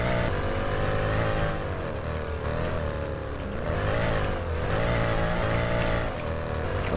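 A tuned Mercedes GT63S drives hard on a racetrack, its engine droning loudly and steadily from inside the car with rising and falling pitch as it accelerates and eases through corners.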